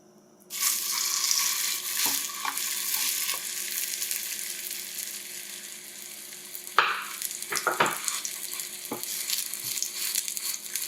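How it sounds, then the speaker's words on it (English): Black bean Mexican hummus fries in a little oil in a pan, with a loud hiss that starts suddenly and runs on steadily, broken midway by a few scrapes and spattering bursts. "Got a little oil in the pan and our Mexican hummus. And we're just going to fry this up."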